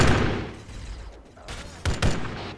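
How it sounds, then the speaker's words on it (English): Gunfire shot into the air in the video game Arma 3 comes as a few sharp bursts over a rumbling background, moderately loud with brief gaps between volleys. "We got eyes on the gunfire into the air."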